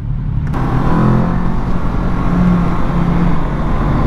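A 2022 Kawasaki Z650 motorcycle engine runs loud and close, its steady revving drone holding around mid-range with slight rises and a low rumbling exhaust throughout, amid wind noise.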